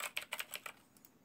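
Rapid clicking of computer keyboard keys on a new keyboard being unboxed, a quick burst of about eight sharp close taps that trail off, with no talking.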